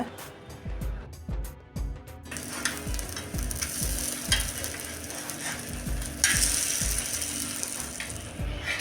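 A sweet made from milk and rava frying in oil on a pan, a continuous close sizzle with a regular rattling, clicking rhythm running through it, no speech.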